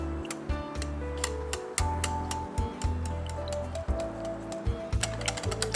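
A whisk beats eggs, dashi powder and halal soy sauce into takoyaki batter in a bowl, giving a quick, steady run of close, light clicking taps with no talking.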